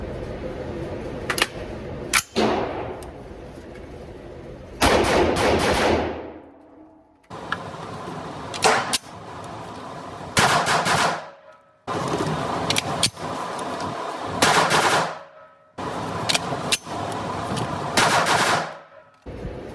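Gunfire from an AR rifle fitted with a 12.5-inch Hodge barrelled upper, loud close bursts of rapid shots in several strings separated by short pauses, with sharp single reports and metallic clanks between them.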